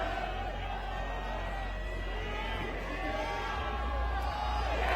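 Crowd roaring and cheering at an ice climbing World Cup lead final in Denver, a dense, sustained wash of voices throughout, with commentary likely mixed in.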